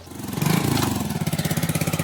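Motorcycle engines pass close by on a road during a walking pilgrimage along the Narmada, a loud pulsing mid-pitched rumble that swells and then throbs steadily with no talk.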